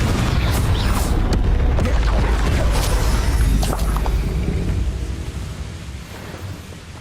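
A Confringo fire spell bursts in Hogwarts Legacy, a loud booming blast with a crackling rumble that holds for several seconds and then fades away.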